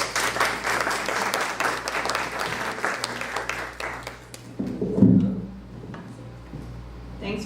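Audience applause welcomes a speaker to the podium at a talk on anxious politics and democratic citizenship, a dense, sustained clapping that tapers off into quieter scattered claps and room noise.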